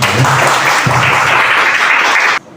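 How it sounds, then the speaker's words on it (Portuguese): Close, loud applause at a public hearing in a municipal council chamber, honouring a lawyer. Dense clapping runs evenly for over two seconds and then cuts off abruptly. "pedir uma salva de palmas para ele aí"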